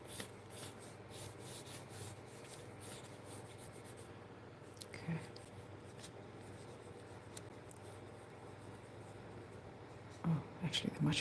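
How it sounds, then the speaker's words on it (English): Pencil sketching pot plants on paper, soft continuous scratching and rubbing strokes close to the microphone, quiet and steady, with a few louder taps near the end and no spoken words. "then we're gonna draw in the pot plants"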